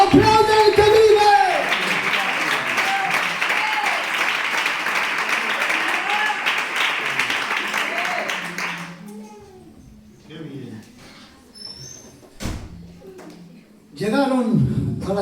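Loud, dense clapping from a church congregation for about nine seconds, mixed with voices, then fading into quieter talk and scattered sounds before a short burst of voices near the end.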